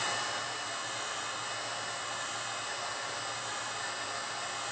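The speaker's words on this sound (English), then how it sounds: "I'm just going to heat this up nice and hot to be able to separate it nice and easy" A heat gun or hair dryer warms a cracked iPad 2 screen to loosen the glass from the frame, with a steady close whooshing blower roar that holds level throughout.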